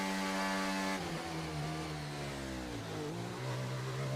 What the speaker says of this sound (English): He was revving his engine really hard there